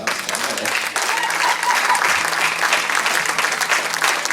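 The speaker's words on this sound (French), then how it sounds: "Alors on va applaudir le ciel." Enthusiastic applause from a small crowd, dense clapping that swells after a moment and continues steadily throughout.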